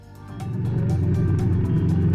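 A Bajaj Dominar 250 motorcycle engine rises to a steady, loud, close drone with a low throbbing rumble and no talk.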